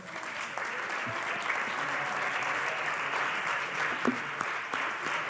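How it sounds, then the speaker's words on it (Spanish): Warm, sustained applause from an audience at the close of a forum held for the national day of solidarity with child victims of sexual abuse, forming a thick continuous patter. "Pues excelente, un fuerte aplauso."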